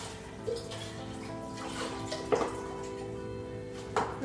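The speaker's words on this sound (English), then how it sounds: "I'm gonna pour it into a soup pot." Chicken broth pours steadily into a large soup pot, a continuous splashing gurgle with a few louder sloshes along the way.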